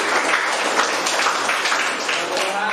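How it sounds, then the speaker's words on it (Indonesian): A class of students applauds together for one group during a technical drawing lesson, a steady, dense patter of clapping filling the room for a few seconds. "Tepuk tangan kelompok 2."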